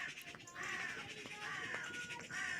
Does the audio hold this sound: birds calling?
yes